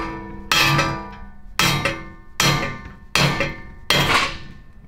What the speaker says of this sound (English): that's why I'm using a rubber hammer